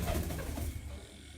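Racing pigeons coo on a rooftop, a brief close low cooing call over soft background noise.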